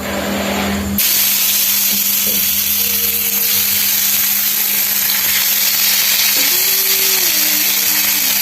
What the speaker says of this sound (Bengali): তেলটা গরম হয়ে গেছে এখন ফ্রাই প্যানে চিকেনটা দিয়ে দেব